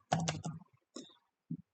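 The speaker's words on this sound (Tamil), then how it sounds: "பிஃபோர் அப்படின்னு ஃபர்ஸ்ட் டைப் பண்ணுறேன்" Keystrokes on a computer keyboard, typed during a WebdriverIO setup session: a quick burst of close, soft clicks, then a few isolated taps after a pause.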